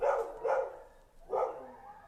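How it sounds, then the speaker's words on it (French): A dog on a country estate barks in three separate bursts, fairly close and clear, with short pauses between them and no talk over it. "le chien de la propriété, c'est un peu..."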